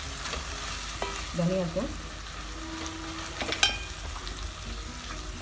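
Tomatoes sautéing with spices in a pan for a Kerala-style fish curry give a steady low sizzle under a person speaking, with a sharp clink near the middle.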